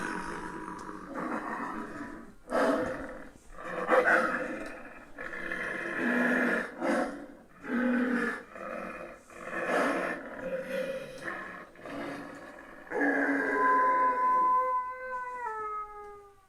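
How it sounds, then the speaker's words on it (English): A 6.5-foot Home Accents werewolf Halloween animatronic lets out a series of deep, rough growls and snarls in bursts, ending in a long drawn-out howl, fairly close with no talking. "I love his really deep growl."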